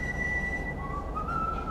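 A person whistles a tune in sustained, clear tones, shifting pitch partway through, faint and alone over a low background hum.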